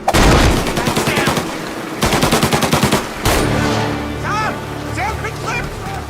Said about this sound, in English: When combat breaks out here, the player must use a combination of tactics and weapons to defend Sam.